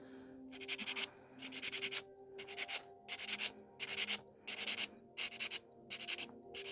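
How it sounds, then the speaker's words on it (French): A sanding block is rubbed back and forth across a gel nail in quick, even strokes, about ten short rasping passes heard up close with no talking. "je prends le bloc ponçoir et on va pas poncer toute la partie"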